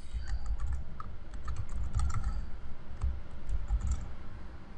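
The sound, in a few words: typing on a computer keyboard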